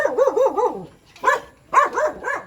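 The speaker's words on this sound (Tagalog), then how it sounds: "May aso." A dog barks in quick yappy bursts at close range, with a few howl-like wavering calls and short pauses between them, and no talking.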